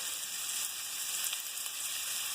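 Eggs frying in a hot pan give a steady, bright hiss of sizzling, close and continuous for a couple of seconds with nothing else over it.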